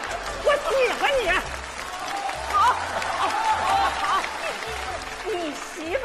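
An audience applauds during a comedy sketch, a soft patter of clapping that rises and falls under people talking loudly throughout.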